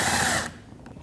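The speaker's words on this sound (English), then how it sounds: "Install the screw in the front corner of the bumper." Power tool driving a screw into the front corner of a Volkswagen Passat bumper, a brief close whir that stops abruptly about halfway through, leaving faint room noise.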